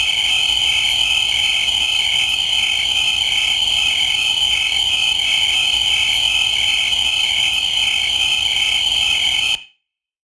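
Insects chirp loudly and continuously in a dense, high-pitched pulsing chorus, cutting off abruptly at the end.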